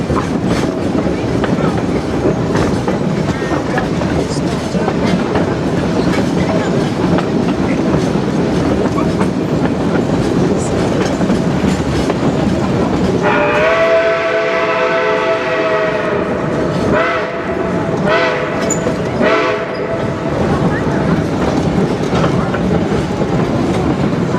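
West Side Lumber Shay No. 9 steam locomotive running on the Georgetown Loop Railroad, its steady rolling clatter continuous and loud throughout, with a long tonal horn-like whistle near the middle over the mechanical rumble.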